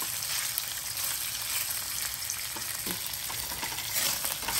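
Marinated chicken fries in oil in a kadai, giving a steady, close sizzle that crackles continuously and stays loud and even from start to finish, with no voices.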